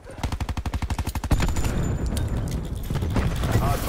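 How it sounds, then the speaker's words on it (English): Rapid automatic gunfire in Call of Duty: Black Ops 4, a fast even burst of shots that gives way to a heavy rumbling blast as a grenade goes off, loud and close. "That's a grenade going out."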